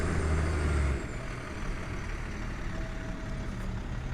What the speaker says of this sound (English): There's a truck coming.